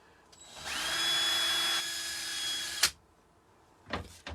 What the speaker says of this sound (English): We're just cutting some MDF, 1/4 inch MDF tonight.